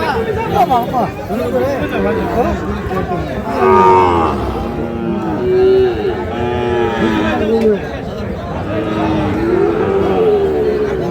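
Sahiwal bulls and calves at the Ambari cattle market moo repeatedly, one call after another, close by under a steady babble of crowd chatter.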